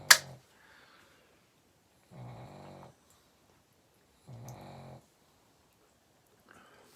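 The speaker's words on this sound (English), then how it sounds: "Your snoring just got worse." Snoring from a sleeper, heard as two slow, low rumbling breaths spaced a couple of seconds apart at moderate volume, with a sharp click at the very start and otherwise near silence between them.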